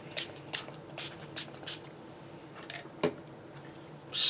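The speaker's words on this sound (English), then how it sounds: "I'm going to put a little bit of Oxide spray, this spun sugar on there too" Several short, soft hisses of Oxide spray paint in a spun sugar colour sprayed for crafting, quiet puffs in a loose rhythm close by, followed by a sharper final burst.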